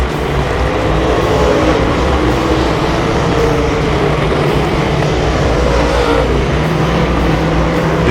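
Race cars roar down the back straightaway of an oval speedway in a loud, continuous wash of engine noise with a faint rise and fall as the pack passes at a distance.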